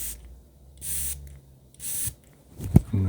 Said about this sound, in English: I'm gonna spray some down the shirt here.